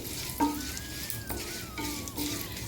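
Curry leaves and urad dal frying in hot oil, a steady close sizzle with brief scraping stirs from a spoon breaking through.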